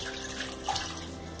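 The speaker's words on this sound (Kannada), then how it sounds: "ನೀರು ಹಾಕಿ" Water is tipped into a pan over ground masala paste while cooking masala puri chaat, a steady soft pouring wash lasting the whole moment, close and fairly quiet, with no talk.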